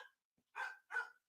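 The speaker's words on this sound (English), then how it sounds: "Here's my dog here." A dog barks indoors, with two or three short, fairly faint barks spaced evenly and nothing else around them.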